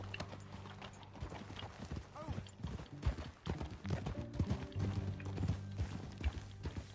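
Horse hooves clop steadily from the video game Red Dead Redemption 2 as a horse is ridden, the clip-clop rhythm running under faint creaking tack and background game sound.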